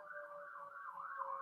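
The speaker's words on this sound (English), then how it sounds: "these sirens are probably coming to get me because they have too much truth" Emergency vehicle sirens wail steadily outside, a wavering, rising-and-falling tone that stays moderately distant and continuous with no voices over it.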